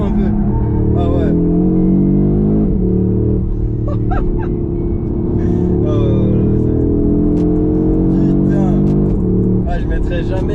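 A 2022 Audi RS3 in Miami blue drives and accelerates, its engine droning loud and close with rising and falling revs throughout, while someone talks over it.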